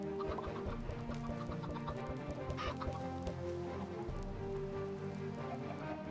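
Chickens clucking in Minecraft, several short clucks scattered over a steady background patter like rain, fairly close and clear without talk.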